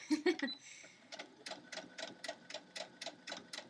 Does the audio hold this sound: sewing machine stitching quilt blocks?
yes